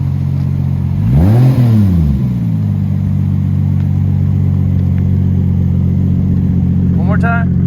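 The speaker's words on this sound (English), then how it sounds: "Give me a little rev." Turbocharged Lexus IS300 SportCross with an XS Power turbo kit revving once, a loud close surge that rises and falls before settling into a steady idle, with a short whine of boost release near the end.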